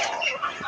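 A young rooster gives a short, strained first crow, a single rough call at close range with no voices over it.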